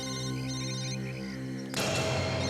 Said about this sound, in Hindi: सर सर फोन फिर से बज रहा है सर।